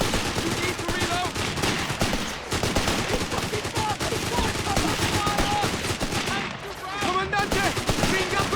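Gunfire in the Company of Heroes 3 video game, with dense overlapping rifle and machine-gun bursts over a loud continuous battle din, mixed with shouted voices of soldiers.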